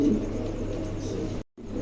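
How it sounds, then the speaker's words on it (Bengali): A pair of pigeons cooing softly in a loft, low continuous murmuring calls with a brief dropout near the end. "চমৎকার একজোড়া কবুতর"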